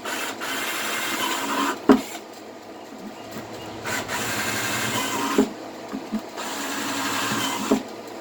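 A power drill whirring steadily in bursts, chewing holes through a plastic bucket, with brief knocks and pauses between holes.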